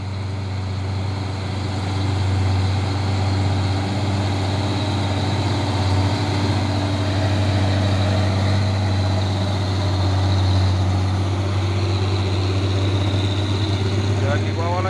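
A heavy truck with a 220 PS turbo-intercooler engine drones steadily on the Bukit Kodok climb, a deep continuous low rumble that holds loud and even for the whole stretch, with faint traffic wash above it.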